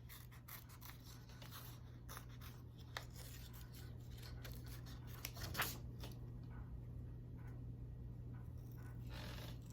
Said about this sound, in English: So we're gonna cut circles in it.